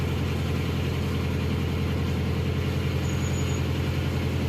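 A narrowboat's diesel engine runs steadily and loud, its low droning throb constant throughout with no pause, close by and alone without voices.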